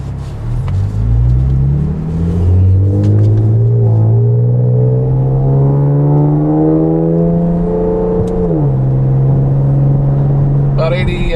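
Camaro V6 with an MRT Version 1 axle-back exhaust accelerating hard from inside the cabin, a loud rising engine drone climbing steadily through the gears, then a brief drop at a shift before settling.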